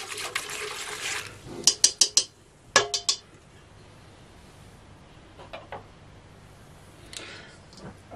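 A spoon clinks and scrapes against a bowl as cake batter with vanilla and sugar is stirred, a quick run of sharp taps followed by softer, scattered clinks.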